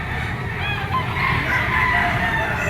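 A bull stag rooster of sweater bloodline crowing at a busy poultry market in Padre Garcia, Batangas, a drawn-out crow over dense crowd chatter and other birds nearby.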